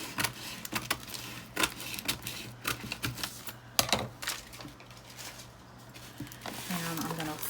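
Scissors cut through wrapping paper for a gift box in a run of crisp, irregular snips and paper rustles, close up, with some talking alongside.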